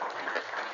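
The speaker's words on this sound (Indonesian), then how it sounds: "Oke, tepuk tangan." Brief burst of group applause from a class of students, a steady dense patter of many hands clapping close by with no voices.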